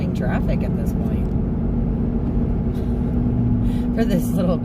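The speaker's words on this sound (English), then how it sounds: "I'm surprised we have so much oncoming traffic at this point" Vehicles rush past on a quiet country road in North Carolina, a steady close road roar with broadband swells as oncoming cars and trucks go by.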